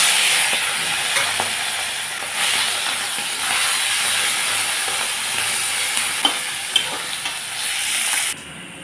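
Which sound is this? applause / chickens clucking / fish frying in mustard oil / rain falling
fish frying in mustard oil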